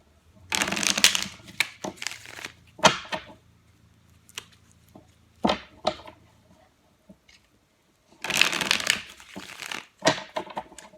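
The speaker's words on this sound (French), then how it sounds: "je décale juste ça pour pouvoir sortir quelques cartes de l'améthyste" Tarot cards being shuffled and drawn, with several riffling bursts separated by single crisp snaps and slides of cards set down, close and clear with no talk.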